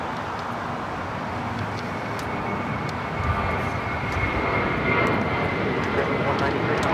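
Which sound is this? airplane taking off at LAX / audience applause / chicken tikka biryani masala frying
airplane taking off at LAX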